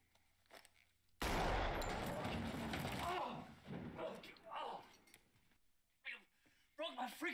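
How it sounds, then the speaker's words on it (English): A sudden burst of rapid gunfire from a Breaking Bad ambush scene, several seconds of loud overlapping shots and mechanical clatter, followed by quieter dialogue and talk. "they're about to shoot him right now"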